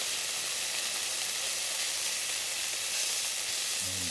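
Smoked bacon fries in a pan with a loud, constant close sizzle and hiss, with a faint clink near the end.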